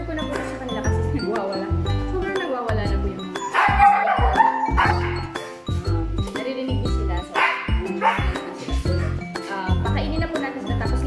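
Several Siberian huskies bark and yip excitedly in rapid, overlapping bursts just before a feeding of vegetables, liver, chicken and egg, loud and close, with occasional clinks and a person talking over the noise.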